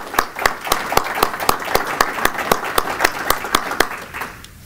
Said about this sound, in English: Let's give all of our Marines a round of applause.